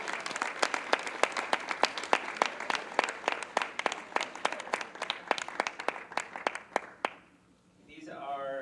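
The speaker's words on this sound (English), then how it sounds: "Let's give them a round of applause." A small group of parishioners at a church gathering gives a round of applause, with sharp individual claps in a steady patter that thins out and stops near the end, followed by a voice starting to speak.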